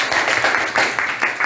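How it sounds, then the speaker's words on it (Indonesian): A classroom of students applauds a classmate, a burst of many hands clapping fast and close together in a dense, lively patter that lasts about a second and a half. "Tepuk tangan buat teman kita."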